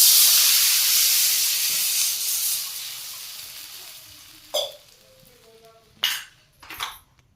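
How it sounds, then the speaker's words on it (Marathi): Water poured into a hot pan after mustard seeds and ground green chilli erupts in a loud hiss of steam that fades steadily over several seconds, followed by a few sharp spoon clanks against the pan. "त्यानंतर पाणी टाकून घेऊया."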